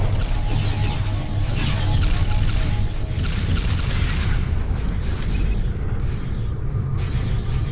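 Dense, continuous rumbling explosions and bursts of suppressive fire from the space combat game Descent: Freespace, a loud, unbroken wall of booms and crashes with no voices.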